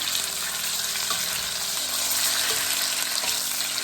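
Turkey necks sear in a frying pan, a loud, close, continuous sizzle with soft crackling and faint scraping in the background.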